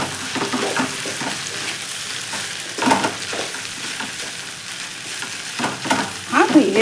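Chicken sizzles in a pan while being stirred by hand, a steady frying hiss with intermittent scraping strokes of the spoon, close and fairly loud.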